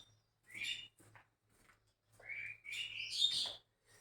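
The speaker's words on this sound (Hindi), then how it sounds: "यार चिड़िया लोग का आवाज जा रहा होगा यार।" Small birds chirp and tweet in short high bursts, a few scattered calls then a busier run of bright chirps, fairly faint and close with no talk over them.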